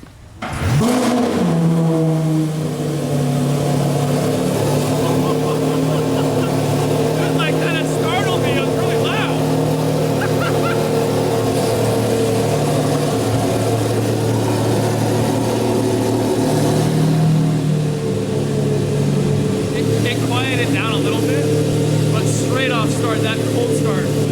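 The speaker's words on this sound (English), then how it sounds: "This is the first startup with the Gintani Revuelto." A Lamborghini Revuelto with a Gintani exhaust fires up cold for the first time with a loud bark, then settles into a deep, rumbling idle that holds steady throughout, with voices faintly over it.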